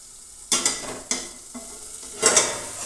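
Potato and pea curry with fenugreek stirred in a pan of oil, four distinct scraping strokes of a spoon over a faint simmering sizzle, close and clear with no talk.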